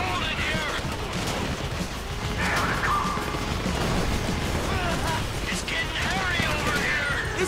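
Dense rapid gunfire from Grand Theft Auto V rattles on without pause, loud and continuous bursts layered over each other, with some voices mixed into the din.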